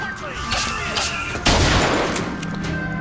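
Gunfire in the Bioshock Infinite video game: several shots crack over a busy backdrop of music and effects, with the loudest blast about halfway through and a noisy decay after it.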